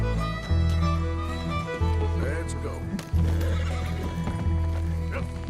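A horse in the video game Red Dead Redemption 2 gives repeated loud neighs and snorts over rhythmic clip-clopping hooves, several calls in a row, with someone talking underneath.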